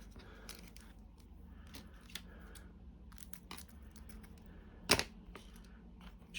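A plastic blister pack of screws being handled and set aside gives faint, sparse clicks and crinkles close by, with one sharper snap near the end in an otherwise quiet room.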